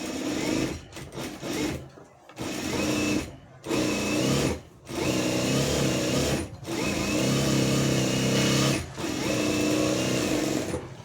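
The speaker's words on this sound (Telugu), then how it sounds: "మనం ఇలా ఒక హాఫ్ ఇంచ్ ఖర్చుతోటి స్టిచ్చింగ్ అనేది చేసేసుకోవాలి" A sewing machine stitches fabric for a hand or sleeve garment at a half-inch seam allowance, a loud close rattling whir in several bursts separated by short pauses as the fabric is guided.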